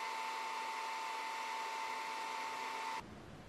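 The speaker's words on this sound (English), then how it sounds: "I also tried to engrave an aluminum ring using the xTool RA2 rotary attachment" An xTool D1 infrared laser module engraves an aluminum ring turning on an RA2 rotary attachment, giving a steady whirring hum with a faint tonal whine that stops abruptly near the end.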